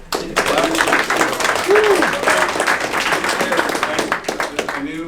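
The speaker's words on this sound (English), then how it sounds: "clap" Meeting participants clapping in a room, a steady burst of group applause that holds loud and even for several seconds, with brief voices and laughter mixed in before it fades.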